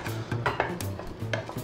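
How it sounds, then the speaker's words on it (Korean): Chicken breast and nut curry simmers in a pot, giving short bubbling pops and soft clinks over a steady low hum for under two seconds, with no talking. "카레가 볼보고 끓고 있습니다."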